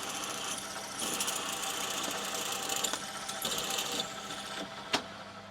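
A machine drill bores 8.5 mm tapping-drill holes for M10 T-nuts on a mill, producing a steady whirring and grinding hum of moderate loudness, with a sharp clank near the end.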